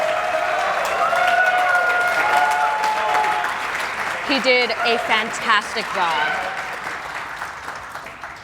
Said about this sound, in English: Can we please get a round of applause for J-Hobbs here for organizing everything?